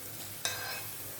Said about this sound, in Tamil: இப்போ நம்ம தக்காளியை சேர்த்துக்கலாம்.